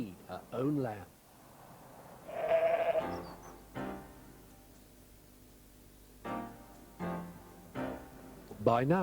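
Ewe and lamb bleating, the mother sheep picking out her lamb by its voice; several short bleats spaced across the stretch, fairly near, with a voice talking in places.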